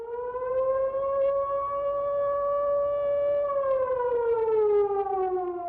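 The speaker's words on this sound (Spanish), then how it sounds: "Las sirenas suenan varias veces casi cada día." A civil defense air raid siren sounds during wartime bombing raids on a port. It holds one loud, steady wailing tone with clear overtones, then slides downward in pitch near the end, heard alone without voices.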